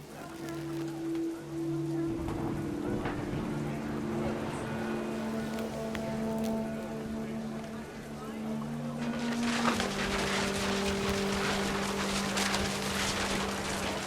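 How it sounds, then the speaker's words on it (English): Heavy rain pours steadily in the video game What Remains of Edith Finch, a dense hiss that swells louder near the end, layered under sustained musical tones. "The rain came down in buckets then"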